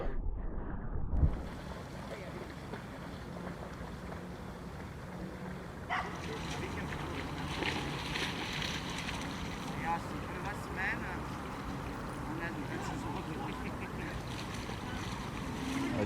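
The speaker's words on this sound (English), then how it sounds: "There's also some wind, so it's not that hot anymore." Wind outdoors by the water gusts against the microphone in a steady broadband rush, louder in the second half, with people talking nearby.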